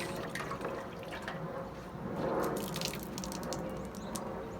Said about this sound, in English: you want to dunk some of the paper into your water,